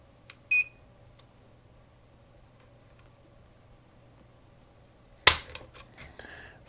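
An empty Springfield Echelon pistol is dry-fired while a Lyman digital trigger pull gauge measures the pull. Two sharp, close clicks stand apart, one early and one near the end with a brief rattle, against near silence.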